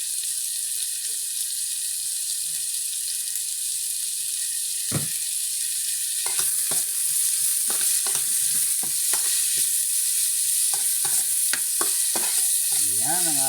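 Sliced ampalaya, bitter gourd, sizzles steadily in a hot pan, with a constant frying hiss and occasional scraping stirs of a utensil against the pan that grow more frequent toward the end.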